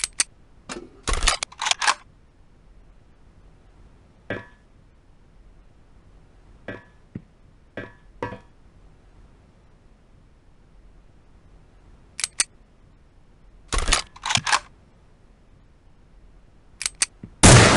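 M4 rifle gunfire in the Soldier of Fortune II: Double Helix tutorial, switching between single shot, burst and fully automatic modes: loud, sharp cracks, some in rapid clusters and others as lone shots, separated by quiet gaps, with no voices.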